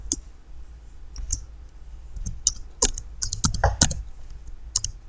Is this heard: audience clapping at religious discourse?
no